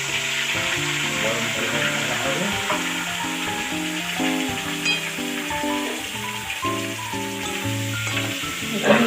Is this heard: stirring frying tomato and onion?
yes